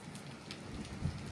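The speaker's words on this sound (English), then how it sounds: "It's very rainy and stormy outside." Rain falls outside on a stormy fall day, a faint continuous patter with soft scattered drops and no voices.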